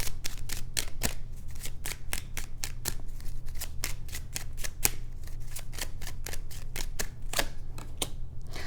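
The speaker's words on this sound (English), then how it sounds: "I'm going to pull one more card." Tarot cards riffled and shuffled in quick, crisp flicks, a steady run of sharp papery snaps close up over a low constant hum.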